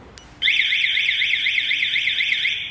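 A continuous electronic alarm tone from a Honda CB650F motorcycle's vehicle-finder, warbling up and down in steady rapid cycles, loud and close, starting abruptly after a brief quiet moment.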